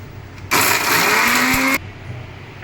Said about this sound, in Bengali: এবার আমি মিক্সিতে এগুলোকে পেস্ট করে নিচ্ছি।